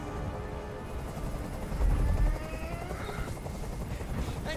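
Helicopter from the video game Detroit: Become Human, a steady loud rotor roar with low thumping that swells briefly mid-clip, mixed with game effects and faint speech.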